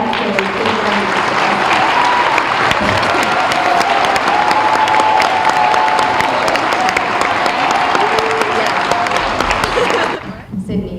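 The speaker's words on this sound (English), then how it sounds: "can you please give a really big round of applause to Tyler and Maurice" A school geography bee audience gives a big round of applause, dense sustained clapping with some cheering that carries steadily for about ten seconds before tapering off abruptly at the end.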